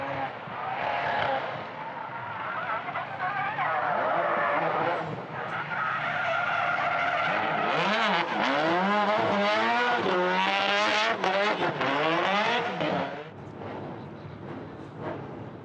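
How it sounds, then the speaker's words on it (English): Mazda RX-7 FD competition car doing donuts at a time attack event, with a sustained loud tire squeal and skid warbling over a roaring rotary engine for most of the run before fading. "I think we're just going to see a little bit of a demonstration of donuts here"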